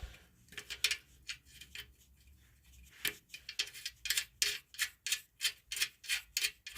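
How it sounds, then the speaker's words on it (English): Nuts threaded by hand onto bolts while refitting a Coleman CT200U mini bike's gas tank, a close series of quick rhythmic metallic clicks and ratchety ticks, accelerating into a steady pattern, with no voices. "you just take these nuts and thread them back on to the bolt"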